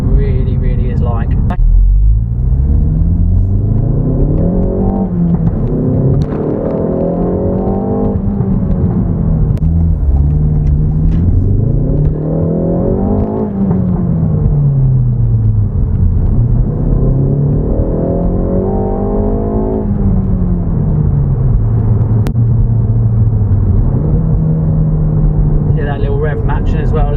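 A 2020 Ford Focus ST is driven hard on an open road, its engine note rising and falling through the gears under steady road and wind rumble, with someone talking over it throughout.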